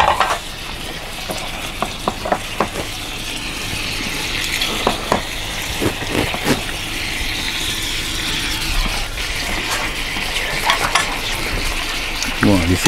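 Swiss chard leaves simmering in a pan with sauce, a steady close sizzle of frying under repeated scraping and stirring strokes of a utensil against the pan, with no talk.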